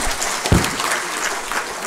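Loud applause from the audience at a women's empowerment event honouring rural women entrepreneurs, a dense burst of clapping that swells around the middle of the short stretch and carries on steadily to the end.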